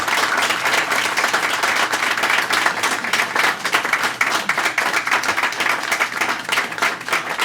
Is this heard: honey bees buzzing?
no